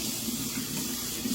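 Water runs steadily from a tap through a freshly cut RC car body, a continuous, even rushing hiss that stays close with no talking.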